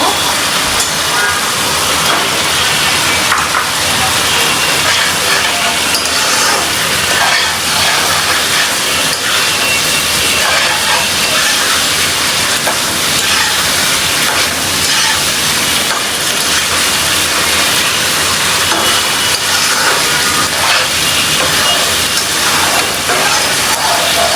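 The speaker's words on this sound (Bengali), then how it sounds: "তো মাছটা দিয়ে একটু কষিয়ে নেই" Fish frying in tomato masala in a home kitchen pan, a steady loud broadband hiss and sizzle that runs unbroken for the whole stretch, with no talk over it.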